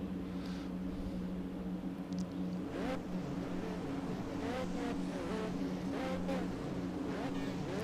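Many race car engines in a Formula One racing video game, at Kyalami, drone together at a distance, with revs rising and sweeping as the cars pull away from the start, a continuous dense roar without speech.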